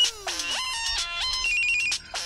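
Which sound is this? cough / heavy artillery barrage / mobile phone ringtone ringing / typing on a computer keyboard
mobile phone ringtone ringing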